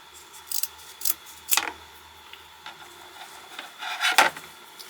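Scissors snip burlap for a spring door hanger, several short crisp cuts spaced irregularly with soft rustling of the coarse fabric between them, close and without speech.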